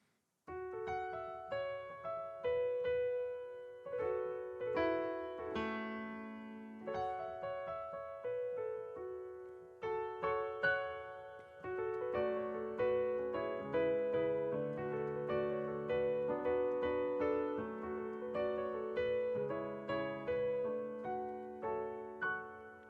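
Solo piano plays the intro and groove of a song, with a steady, continuous stream of chords and melody notes at moderate volume and no voices.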